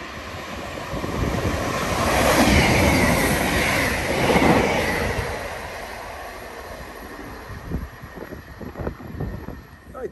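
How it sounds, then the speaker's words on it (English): An express train runs through a rural station on the Hope Valley line in the Peak District, a loud rushing roar that builds and passes over several seconds, then gives way to rattling, clattering wheel noise as the carriages go by. "In fact, there's a train coming now. It's a bit early, so this is probably an express."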